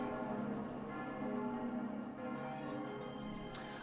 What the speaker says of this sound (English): I hear bells ringing.